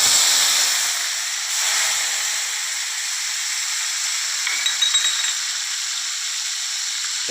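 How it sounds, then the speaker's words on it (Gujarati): Cumin seeds crackle in hot oil in a pan for a curry of dried moong beans, giving a steady, loud, hissing sizzle with faint pops throughout and no voices. "તો મિત્રો આપણા તેલમાં જે જીરું નાખ્યું હતું એ હવે તતડી રહ્યું છે."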